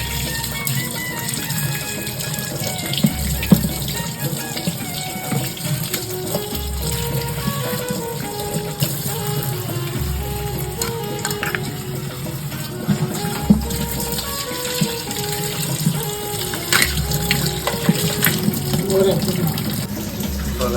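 Tap water runs steadily into a sink while freshly dug mud crabs are scrubbed clean, a continuous gushing wash with light handling clatter and some talking over it.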